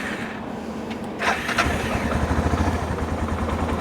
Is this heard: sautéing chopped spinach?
no